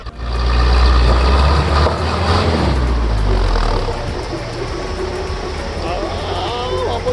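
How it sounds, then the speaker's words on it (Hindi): On a steep mountain road in Neelum, Kashmir, a vehicle's engine drones loudly and steadily as it strains and reverses, a constant heavy roar with wind-like noise and people talking over it. "ये जब गाड़ी चढ़ नहीं पाती और रिवर्स आती है ना, ये काम बहुत ख़राब है।"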